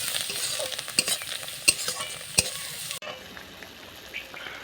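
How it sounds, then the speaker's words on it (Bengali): Spice paste sautéed in a pan for a spicy murli fish curry, village-style cooking: steady close sizzling with scraping stirs and a few sharp clinks, quieter for the last stretch. "মশলাটা ভালো করে কষিয়ে নেব"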